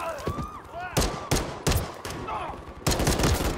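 Gunfire in Modern Warfare III rings out in several loud, sharp shots spaced irregularly, each one sudden and close, with faint speech between them.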